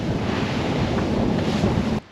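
Open-sea waves wash around a JPK 39 FC sailing yacht crossing the English Channel under sail. A continuous loud rushing surge mixes with wind noise on the microphone, then drops off abruptly near the end.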